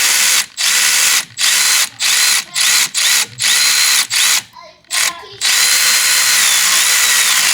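A power drill or impact tool works on a 2015 Chevy Malibu during alternator replacement, firing in a rapid series of loud bursts separated by short gaps, followed by a long continuous run, close and loud.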